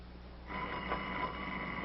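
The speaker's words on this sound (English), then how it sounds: "Go on, answer the phone." Telephone rings faintly with a steady trilling bell tone over background hiss, in a 1940s indoor setting.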